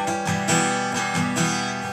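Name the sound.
acoustic guitar hammer-off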